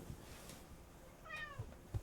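A cat lets out a single rising-and-falling meow partway through, fairly clear but not loud, against quiet room noise with a few soft low thumps.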